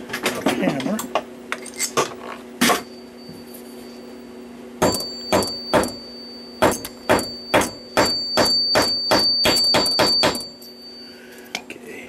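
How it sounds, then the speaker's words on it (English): A hammer taps a part into a cuckoo clock movement, sharp metallic clinks, first scattered, then a quick run of about a dozen regular taps, loud and close in a quiet workshop. "Tap that in with a hammer."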